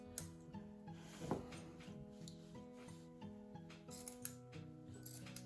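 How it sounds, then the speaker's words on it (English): Fabric scissors snipping small slits along the edge of a pillowcase, heard as faint, soft cutting and rubbing sounds beneath quiet background music. "I just went through with my fabric scissors and I'm just cutting just along the edge of this ghost"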